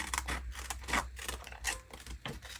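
Scissors cut out a paper rub-on image with a quick run of crisp snips and paper rustles, close and fairly quiet.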